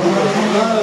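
A race car at a hill climb roars past nearby in a brief, loud burst of engine noise.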